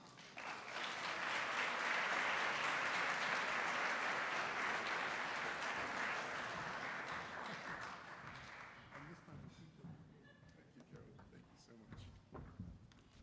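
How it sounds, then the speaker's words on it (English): A large audience claps for an honoree at a health award ceremony. The round of applause swells quickly, stays full for several seconds, then tapers into scattered claps. "Please join me in giving him a big round of applause for Tom."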